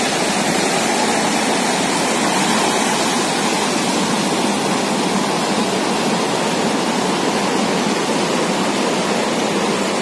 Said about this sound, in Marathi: समुद्राला पण चांगलीच भरती आलेली आहे, त्यामुळे पाणी एकदम